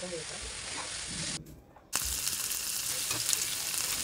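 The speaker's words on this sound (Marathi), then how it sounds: "हे मसाले ना चांगले परतून घेऊया." Kashmiri red chili powder and coriander powder sautéing on a tawa give a constant close frying hiss, briefly interrupted by a short drop-out before resuming at full strength.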